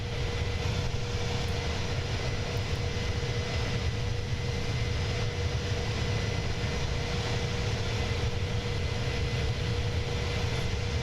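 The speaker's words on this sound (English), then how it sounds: "that's an actual aircraft passing overhead" A real aircraft passes overhead, a continuous broad engine roar holding steady and fairly loud throughout, with no talking.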